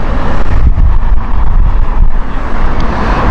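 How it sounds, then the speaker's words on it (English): Loud, continuous wind buffeting the microphone outdoors at Heathrow Airport, a heavy low rumble with gusty fluctuations and no talking. "It's slightly windy today"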